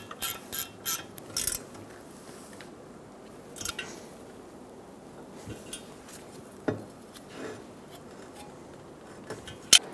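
A ratchet wrench snugs down the wheel hub bolts on a 2007-2011 Toyota Camry during a front bearing and hub job, with short bursts of clicking and scattered metallic knocks, close, with quiet stretches between.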